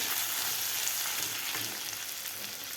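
Grated ginger and cumin seeds sauté in a pan for masoor pulao, giving a steady, dense sizzle that holds at an even level throughout, with no voices.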